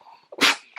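A pug gives one sharp, snorting sneeze, close and brief, with a bit of soft breathing before and after.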